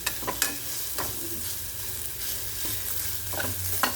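Avaraikai paruppu usili, crumbled lentil mixture with broad beans, frying in oil: a low continuous sizzle with intermittent scraping stirs and light clinks, close by and unaccompanied by speech.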